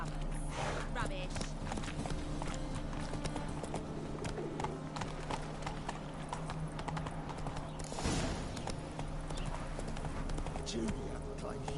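Roach, a horse in the video game The Witcher 3, runs with rhythmic hoofbeats throughout, mixed with game music and ambient effects while characters talk over it.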